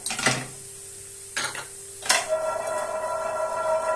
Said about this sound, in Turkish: tam leblebi sesi